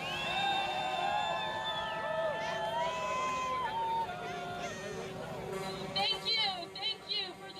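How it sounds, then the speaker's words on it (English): Crowd at a trucker convoy rally in Ottawa cheers and whoops loudly and continuously, with a dense hubbub of many voices and scattered shouts, ending in a few sharper bursts. "Thank you for the cheer"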